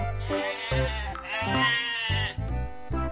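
An orange toy goat gives a wavering electronic bleat over a looping music track with a thumping beat, loud and close, with no voices.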